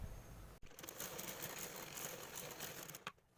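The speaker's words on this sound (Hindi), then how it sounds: "तो चलिए इसमें सिलाई डाल लेते हैं।" Sewing machine stitching fabric for a Navratri dress for a small Laddu Gopal deity idol, running steadily and close with a dense mechanical whir after a brief start, then stopping near the end.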